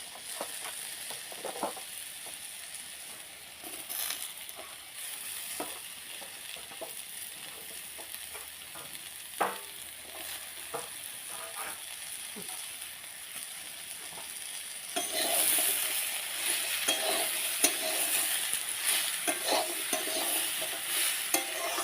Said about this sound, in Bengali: এই দেখো কেটে রাখা পুঁই মেজরিগুলো দিয়ে দিচ্ছি।